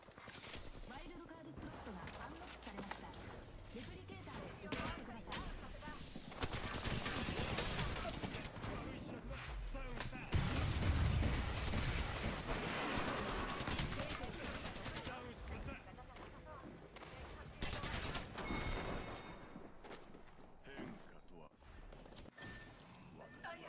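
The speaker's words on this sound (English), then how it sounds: "Brother, you're shooting at me." Sustained video game gunfire with bursts of rapid shots and booming impacts that swell loudest midway and then ease off, mixed with game noise and a streamer talking over parts of it.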